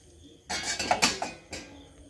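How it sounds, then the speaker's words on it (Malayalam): Boiling hot water poured over dried mangoes in a bowl, a splashing pour that starts abruptly after a quiet moment and runs in uneven gushes, with a second burst near the end. "ഈ മാങ്ങയിലേക്ക് നമ്മൾ കുറച്ച് ചൂടുള്ള വെള്ളം തിളച്ച വെള്ളം ചൂടുവെള്ളം ഒഴിച്ചു കൊടുക്കാവേ"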